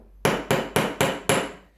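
Five sharp, evenly spaced hammer blows on a leather workpiece in a leathercraft class, each strike loud and close with a short ringing decay, and no voices.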